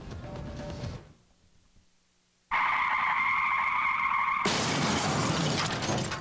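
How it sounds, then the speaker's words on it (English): A staged car crash effect: a vehicle noise cuts to near silence, then tires skid with a sustained high squeal, ending in a loud burst of shattering glass and crunching debris. "You've been in a car wreck."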